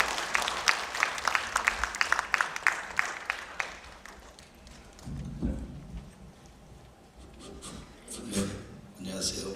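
Audience applause welcoming a performer onto the stage at an academic conference, a dense run of clapping over the first few seconds that thins out and fades, with some murmuring and shuffling afterward.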